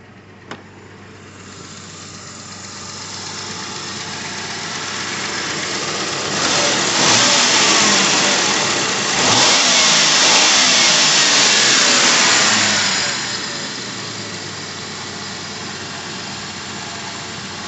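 A Jeep Grand Cherokee engine runs after a spark plug and coil boot repair: a steady, close mechanical drone that swells louder for a while in the middle, then settles back to an even idle.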